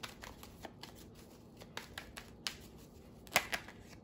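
Oracle cards being shuffled by hand up close, a quick series of soft papery flicks and taps with a slightly louder burst near the end.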